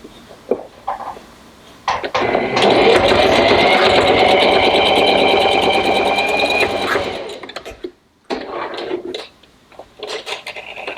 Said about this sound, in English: I'm going to just flip it over and do one more stitch right across here just to secure it